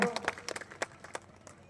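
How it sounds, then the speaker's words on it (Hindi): Scattered, faint handclaps ring out one after another from a crowd at a district public event in Bemetara, a loose uneven patter following a brief bit of voice at the start. "जोरदार ताली बजा करके स्वागत करो"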